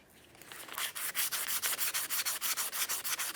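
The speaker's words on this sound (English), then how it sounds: "Just use some fine sandpaper," Fine sandpaper scuffs the hub surface of a 1994-1997 Honda Accord front wheel, a rapid, steady back-and-forth rasping that builds quickly and then repeats in even strokes, close and fairly loud with no talking.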